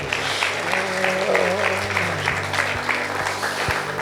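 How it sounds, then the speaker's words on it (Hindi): Audience at a Catholic catechist retreat clapping in a hall, a loud, fairly even spread of hand claps over a low, humming background, with a few sharper claps standing out. "ताली बजाए धन्यवाद"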